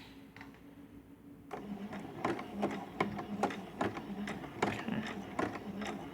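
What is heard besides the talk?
sewing machine stitching along the edge of a quilt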